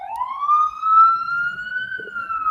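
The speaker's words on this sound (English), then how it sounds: "tell that ambulance pass fast by you, because I realized they was always interrupt the program" An ambulance siren passes nearby in a single rising, slowly bending wail with bright harmonics, loud and close, over faint low background rumble.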